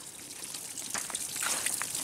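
Water trickles and dribbles from a plastic water jug pierced by a bullet. The thin splashing stream starts quietly and grows slightly louder and more broken as it goes.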